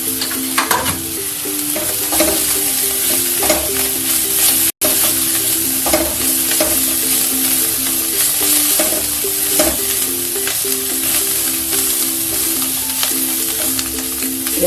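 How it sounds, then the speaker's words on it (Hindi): Coriander and spices are roasted in a frying pan, making a loud, steady sizzle with repeated scraping stirs throughout, close up, and a faint tonal hum underneath. "धनिया को रोस्ट होने तक रोस्ट करेंगे।"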